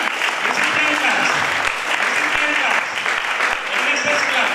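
An audience claps for award winners at a school event, with loud, dense and sustained applause that fills the room. Voices are audible beneath the clapping.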